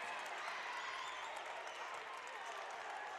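A basketball crowd at a Utah 3A boys state tournament quarterfinal between Judge Memorial and Richfield claps and cheers after an interception, a steady dense roar of applause heard from a distance, quiet and continuous with no clear voices.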